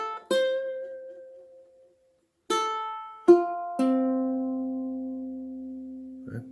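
Fingerstyle ukulele picking out the bugle call Taps with drop thumbing, a handful of plucked notes spaced slowly with long ringing pauses, soft and close, played alone without talk.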